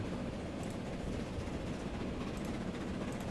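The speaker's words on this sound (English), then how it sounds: "This is a pretty powerful train." Train running along a track in the Transport Fever simulation game, a steady low rumble with rail noise and faint periodic clicks, continuous and moderately quiet with no voices.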